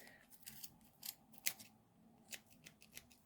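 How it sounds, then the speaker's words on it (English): Scissors snip through crochet yarn in a series of quick, crisp close-up cuts, several separate snips spaced irregularly with quiet gaps between them. "It helps so you hold your scissors into position."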